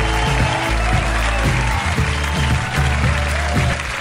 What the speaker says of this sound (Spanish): ¡Ey! ¡Aplausos!